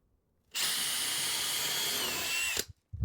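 An electric drill bores a hole into pine wood during a cargo trailer conversion, a single steady high whine lasting about two seconds that starts and stops abruptly.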